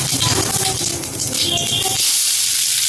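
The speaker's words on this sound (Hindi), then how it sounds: "तेल गरम हो जाए जीरा देदबा" Cumin seeds dropped into hot oil for an Odia home-style dish, giving a loud, close, steady sizzle and hiss that crackles for about two seconds before settling into a smoother frying hiss.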